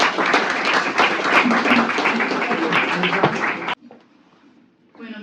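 An audience at a Spanish-language book presentation on wine tourism in Catalonia bursts into steady, full-room applause for several seconds, then it cuts off abruptly, leaving a quiet pause before a voice resumes.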